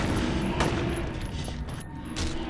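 Gunfire in Silent Hill 3 on PS2, a rapid run of muffled shots over rumbling game noise, with a person talking faintly underneath.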